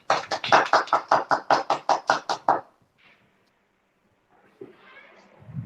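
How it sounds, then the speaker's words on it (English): An audience claps in a quick, even burst of about a dozen sharp hand claps welcoming Mrs. Pooja Gadevar Upganlavar to an Evening with KOMTv session, then falls quiet before faint talk begins. "help me welcome with a huge round of applause"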